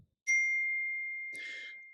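Phone notification ding sounds once, a clear, close bright chime that rings out and decays slowly, with a faint second chime near the end.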